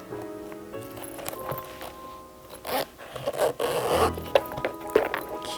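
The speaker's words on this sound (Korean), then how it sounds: "지퍼를 끼우겠습니다." A zipper being fitted into a handmade leather pouch during leather crafting, with short scraping rasps and rustles of handling, growing busier and louder toward the end over faint background tones.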